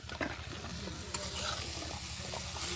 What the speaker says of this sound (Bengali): এখন আমি নেড়ে চেড়ে ভালো করে ভেজে নিব।